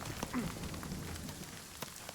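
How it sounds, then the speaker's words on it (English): Hailstones falling in a game, a steady patter of small hits spread across the whole stretch, fairly faint, with no voices. "okay with the hail"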